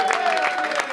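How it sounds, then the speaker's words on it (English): A team claps and cheers for head coach Kenny Atkinson ahead of his first playoff game. It is a very short burst of clapping mixed with voices. "Clap it up for him"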